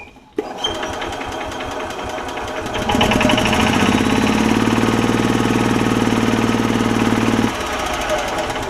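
A Club Car DS golf cart's Kawasaki engine starts with a sharp catch and settles into a rapid, close, rattling idle that rises louder and steadier, then drops back to a lower chug near the end.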